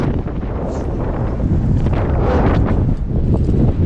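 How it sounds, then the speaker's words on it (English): Strong wind gusts buffet the microphone at an off-grid house building site, a loud continuous low roar and rumble that swells steadily and never lets up, with no voices. "the winds really started to pick up"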